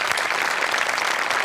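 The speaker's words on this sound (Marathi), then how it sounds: "टाळ्या वाजवूया प्लीज." A studio audience at a Marathi comedy show claps continuously, a dense, even wash of applause close and loud throughout the short stretch.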